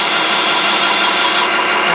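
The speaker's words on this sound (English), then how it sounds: "Then I'm just taking the drill and running it back." A power drill whirs steadily and loudly up close while running back over a machined jack base, a constant broadband grinding hum with no pauses.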